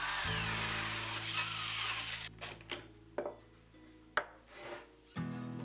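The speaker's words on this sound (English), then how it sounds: "Then I make a 2 inches hole on the wall side." A 2-inch hole is cut into a thick, heavy wooden desk board, starting with a steady loud whirring grind, then giving way to scattered knocks, scrapes and short bursts of tool noise.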